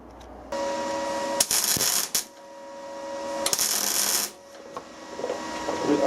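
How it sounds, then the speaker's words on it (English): Two short bursts of MIG welding crackle and buzz as a nut is welded onto a rusted stud, each lasting under a second, sharp and close over a quiet workshop hum. "So first thing is to weld that on."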